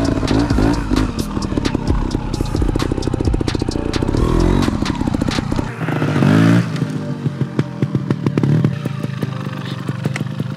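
Yamaha TMAX 560 scooter climbing uphill, its engine a steady, loud, rough drone with gritty texture throughout and a brief surge midway, recorded up close while riding.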